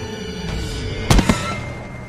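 A single gunshot in The Walking Dead video game on PS3, a sharp loud burst with a quick second crack just after, over a steady game background hum.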